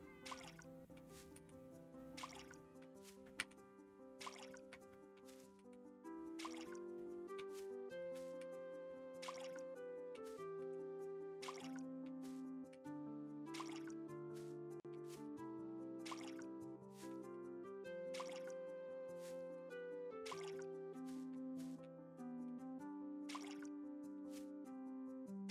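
Crops being watered in the game Call of Boba: steady, repeated drip-like taps over a sustained, tonal backdrop of game music, faint and continuous throughout.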